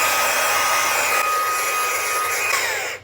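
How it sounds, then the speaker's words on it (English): A Fanttik B8 ACE brushless mini blower runs as a steady, loud, high-pitched whooshing whine blowing dust off electronics, holding constant for about three seconds before cutting off abruptly at the end. "it definitely blows the dust off of everything very nicely"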